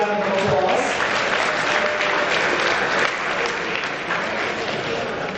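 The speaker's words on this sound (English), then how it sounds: "Let's give them a big round of applause." Audience at a chamber of commerce awards ceremony in a hotel ballroom breaks into loud, dense, continuous applause that stays full and even for several seconds.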